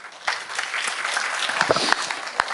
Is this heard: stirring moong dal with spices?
no